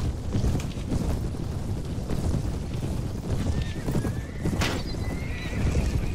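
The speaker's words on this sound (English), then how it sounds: "The ride of the Cuman cavalry." Cuman cavalry horses in Mount & Blade Warband, galloping hooves clattering steadily while several whinnies and neighs rise above the dense rumble of the charge.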